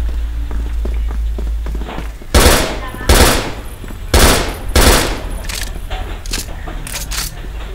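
Bursts of gunfire from a shooting video game crack out in a few loud, spaced volleys over a low background hum.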